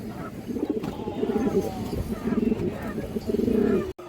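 Pigeons coo in soft, throaty, repeated phrases close by, several birds overlapping in a steady rolling rhythm.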